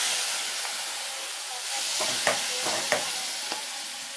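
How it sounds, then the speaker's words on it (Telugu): A tempering sizzles and hisses steadily in a pan for mango dal, with a few soft clinks of a spoon stirring partway through, close and moderately loud, without talk. "చక్కగా ఇలా తాలింపు వేసుకోవాలి"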